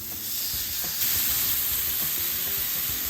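Marinated chicken, brined in pickle juice, frying in a pan just after being flipped, a loud close steady sizzle and hiss throughout, with faint clicks and a brief scrape, no talking.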